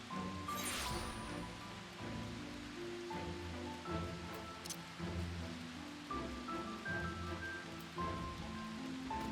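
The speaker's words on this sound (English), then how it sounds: "Nighttime and raining, and oh man, it used to be so nice here." Soft, steady nighttime rain in Final Fantasy XIV patters beneath quiet, drawn-out musical tones, a gentle wet hiss running throughout.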